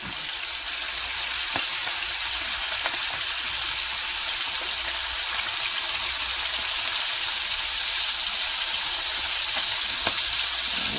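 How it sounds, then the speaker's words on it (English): Bacon for burgers fries in a pan with a constant bright sizzle and crackle, loud and close, punctuated by small pops, steady for the whole stretch with no voices. "I'm just going to keep cooking this bacon up."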